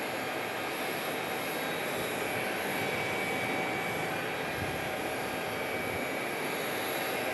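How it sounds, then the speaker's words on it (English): An American Airlines Airbus A321neo jet arriving at an airport makes a faint, even engine roar that holds steady throughout, alone without talk. "Is American 1762 on an A321neo from Denver, Colorado."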